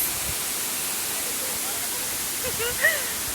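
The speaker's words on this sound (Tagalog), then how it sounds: "Welcome to Tinago Falls." Steady broadband rush of Tinago Falls, a waterfall in Iligan, fills the scene evenly from start to finish, with faint voices briefly audible near the end.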